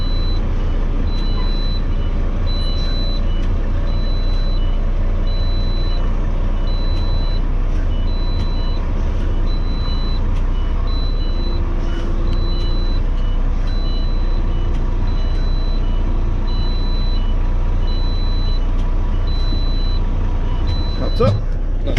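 A truck in New Zealand backs onto a trailer over a metal ramp, its reversing alarm beeping steadily at an even pace over a constant low diesel engine rumble, with a clunk near the end.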